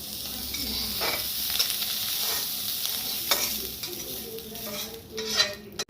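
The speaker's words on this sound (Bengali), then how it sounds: "মাছটা ভাজা হয়ে গেছে, এবার নামিয়ে নেবো।" Fish, likely prawns, sizzle as they fry in a pan, with an ongoing crackle broken by several sharp scrapes and clinks from stirring with a utensil, and no voices.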